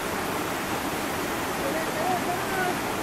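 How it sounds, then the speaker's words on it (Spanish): Oneta falls in Villayón, Asturias, pours with a constant, dense rushing roar of falling water that fills the whole scene, steady and unbroken throughout. "Cascadas de Oneta."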